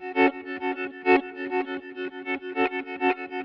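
Pedal steel guitar run through a Soundtoys effect with the wet mix pushed too far, giving a heavily processed, distorted tone; a steady series of plucked, swelling notes and chords rings alone, up close and fairly loud.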